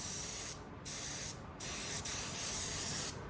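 Short bursts of a paint spray gun hissing, several sprays with brief pauses between them, close and steady.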